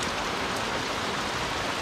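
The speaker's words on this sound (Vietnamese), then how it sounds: "Hôm nay thì mưa quá to." Heavy rain pours down steadily, a dense, loud hiss of drops drumming on surfaces that continues without a break and with no voices over it.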